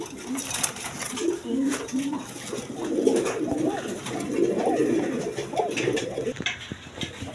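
A pair of pigeons coo in soft, repeated rolling bursts close by, with a faint steady background hum and occasional clicks.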